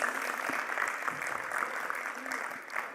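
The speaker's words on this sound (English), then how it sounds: "Let's warmly welcome him with a big, big round of applause and thank him for his presence." An audience at an agribusiness industry event inauguration gives a sustained round of applause, a dense steady clatter of many hands throughout, fairly close and even in loudness.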